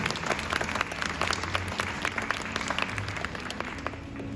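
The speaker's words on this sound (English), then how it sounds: "Let's give Katie a round of applause." An audience at a glass factory claps for a beginner glassblower named Katie, a dense, sustained round of applause from a small crowd, close and steady throughout.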